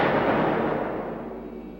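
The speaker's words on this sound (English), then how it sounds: "One misguided missile nearly hits a town." Missile explosion, a heavy, close boom with a wide roaring burst that fades into a rumbling decay over under two seconds.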